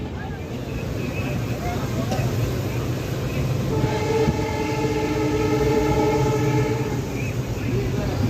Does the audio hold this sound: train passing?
yes